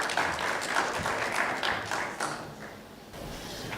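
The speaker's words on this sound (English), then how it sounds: "Please give a round of applause, ladies and gentlemen." An audience at a conference session applauds a speaker coming on stage, a steady wash of clapping from many hands that gradually thins and softens.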